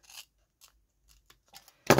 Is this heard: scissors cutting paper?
yes